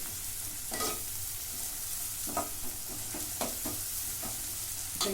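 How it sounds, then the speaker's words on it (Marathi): Onion with ginger-garlic paste sautéing in a pan for chicken biryani, a constant sizzle with repeated rhythmic scrapes of a spoon stirring the mix, fairly close. "परतून घेते"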